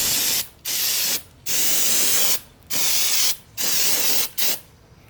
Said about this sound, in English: clean it off with some brake clean to see if I could determine where the leak is coming from